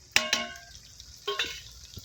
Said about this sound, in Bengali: এই যে আমার আদা রসুনগুলো কিন্তু ভাজা হয়ে গেছে